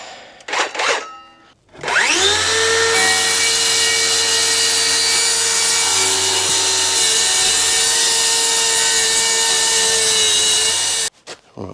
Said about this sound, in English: So I've got my trusty old saw. It's time for a bit of brute force.